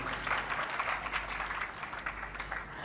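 Brief burst of audience clapping at a spiritual talk, a dense, moderately loud patter of many hands that carries evenly for a few seconds before tapering slightly.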